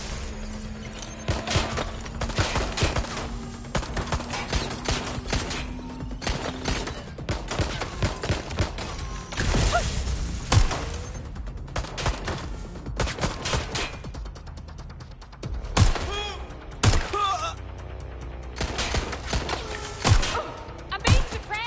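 Gunfire in Watch Dogs: Legion, with loud repeated bursts, heavy thumps and crashing impacts throughout a busy firefight, some near and sharp, with voices speaking between the shots.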